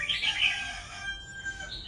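A wild-caught cage bird sings a few bright, loud whistled phrases close by, then pauses before another short note near the end.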